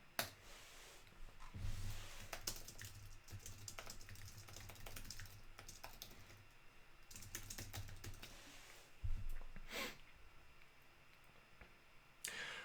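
Quiet typing on a computer keyboard, a steady run of light clicks and taps with small pauses and a few heavier keystrokes, close to the microphone, with no talking.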